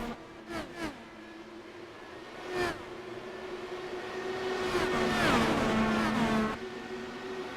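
Race cars roaring around a track, with several sharp engine passes early on, then a long swelling whine of a car approaching and sweeping past before fading.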